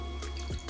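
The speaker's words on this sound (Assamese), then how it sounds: "জাৰটো মই আহালি পানী দি দিলোঁ অলপ পানী দি দিছোঁ" Water poured into a cooking pan of butter paneer gravy, a brief close splash and trickle over a steady low kitchen hum.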